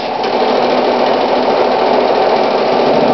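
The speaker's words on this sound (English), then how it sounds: "Sew it down. Back stitch." A sewing machine back stitching a fabric strip runs in one continuous loud, steady whirring hum with rapid needle chatter close to the microphone.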